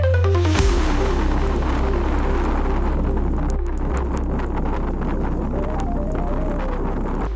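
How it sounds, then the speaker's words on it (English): Strong wind buffets the microphone in a constant roar in the Alps, with an engine-like low drone running underneath throughout. "It's really windy now"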